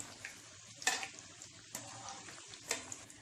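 Cauliflower for Gobi 65 fries in hot oil with curry leaves and green chillies, giving a steady close sizzle and crackle with a few sharp spits and stirring clinks, and no talking over it.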